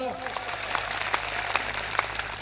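Scattered crowd applause for police officers at a political rally in Gujarat, a patter of claps with sharper bursts here and there, heard under a speaking voice.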